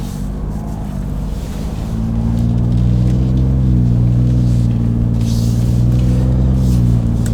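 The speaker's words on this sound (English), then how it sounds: "this is the 3-inch single with no resonator now. Definitely a deeper, lower note and a more aggressive note." A 2021-or-later Ford F-150 XL fitted with an MBRP single side exit 3-inch cat-back exhaust and no resonator idles with a deep, steady rumble, swelling into a louder, fuller drone after a couple of seconds and then holding.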